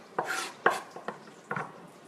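Knife chopping onions into dice on a cutting board, four crisp, separate cuts at an uneven pace, close and fairly quiet with nothing else in the background.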